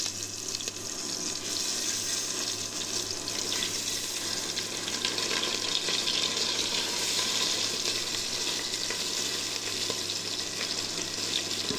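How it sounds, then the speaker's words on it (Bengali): Tangra fish coated in salt and turmeric frying in hot oil, a steady dense sizzle and crackle running continuously and fairly loud throughout, with no voices. "এবার আমি লবণ হলুদ মাখা মাছগুলা আস্তে আস্তে তেলের মধ্যে দিয়ে দিই"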